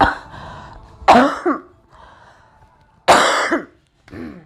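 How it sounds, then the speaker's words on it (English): Two harsh, close coughing fits, each a burst of rough hacks, separated by a brief quiet breath, with a raspy throat sound trailing after. "I'll be trying to like not cough all in the mic"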